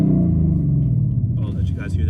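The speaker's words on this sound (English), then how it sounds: "Because it's idling funny." A Ford Mustang GT idles roughly in a parking lot, a loud, low, uneven engine rumble running steadily throughout, with a person talking over it near the end.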